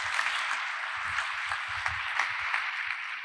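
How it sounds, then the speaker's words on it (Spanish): Audience applause for a speaker taking the stage at a Formula Student car presentation, a dense, even patter of clapping that holds steady throughout. "un fuerte aplauso para ella"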